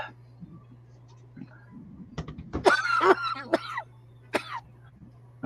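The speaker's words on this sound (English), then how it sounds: "Don't be doing that coughing crap," A few short, rough coughs with a low steady hum underneath, fairly close and moderately loud.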